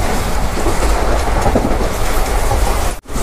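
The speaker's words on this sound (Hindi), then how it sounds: "तो एकदम फुल स्पीड पे ट्रेन अपनी भाई चल रही है" Gujarat SF Express passenger train running at full speed, about 104 to 110 km/h, heard from inside a second-class coach as a loud, steady rumble with a brief sharp dropout near the end.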